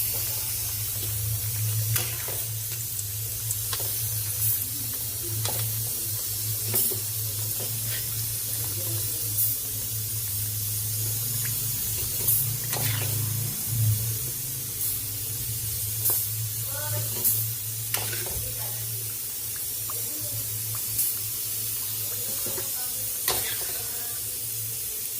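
Lechon kawali pork sizzling in hot frying oil, a steady close hiss with scattered pops and crackles, accompanied by a low hum throughout.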